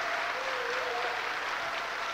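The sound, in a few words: church congregation applauding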